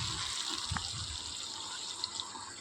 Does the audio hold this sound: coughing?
no